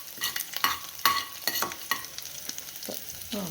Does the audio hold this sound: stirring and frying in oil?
yes